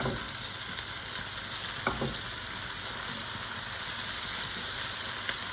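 Onions fry in a pan for cebolada, giving off a loud continuous crackling sizzle with a couple of brief stirring scrapes, and no voices.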